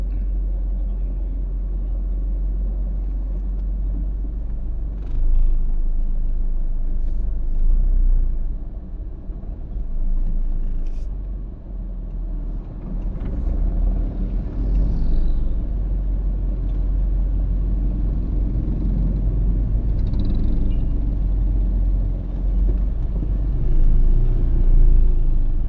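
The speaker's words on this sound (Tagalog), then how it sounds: "Sobrang traffic dito sa" Heavy road traffic on Leon Guinto street, a steady low rumble of engines and passing cars that rises and falls in waves, with no talk over it.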